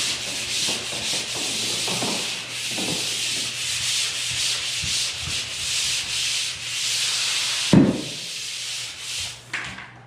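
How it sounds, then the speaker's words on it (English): Drywall joint compound is sanded by hand, a steady close scratchy rasping of repeated back-and-forth strokes with a faint low hum underneath and a sharper knock near the end. "So I did that one side, so I sanded the inside"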